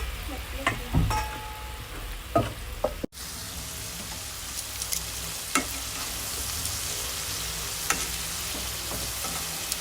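Chicken wings deep frying in hot oil give a steady, bright sizzle with scattered pops and crackles, continuous and close, with a few clinks and stirring noises early on.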